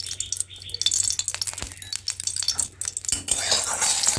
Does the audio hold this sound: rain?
no